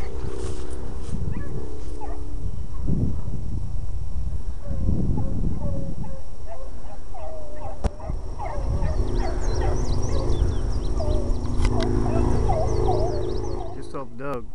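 Several beagles bark and bay in overlapping bursts while hunting, some distant and some nearer, with wind rumble and brief talk early on.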